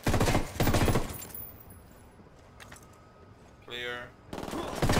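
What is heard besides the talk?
gunfire in Ghost Recon Wildlands video game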